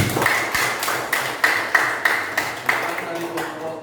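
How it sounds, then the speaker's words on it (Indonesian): A classroom group claps for presenters, a short run of rhythmic hand claps about three per second, close and fairly loud, fading out toward the end. "Oke, tepuk tangan untuk kelompok 1."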